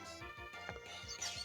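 Growl move effect from the Pokémon Platinum video game: a loud run of evenly spaced, falling cry-like chirps, closing with a bright, warbling electronic trill.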